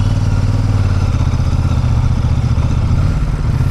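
A motor vehicle engine pulls hard in first gear with the accelerator held down, giving a loud, steady, close rumble with a rattling clatter throughout and no clear pause.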